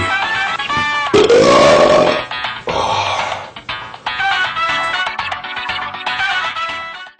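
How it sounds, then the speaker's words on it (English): A man lets out long, loud, drawn-out burps up close, with a rising croaky pitch and short breaks between bursts. "his videos mainly consisted of him farting and burping"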